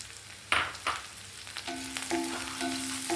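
Chopped garlic and green chillies fry in a pan, a close, continuous sizzle with stirring scrapes, then a faint electronic beeping tone joins under the frying.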